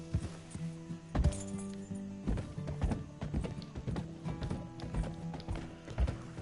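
A horse clip-clops in Red Dead Redemption 2, its hoofbeats thudding and tapping irregularly beneath a dense wash of game music and ambience.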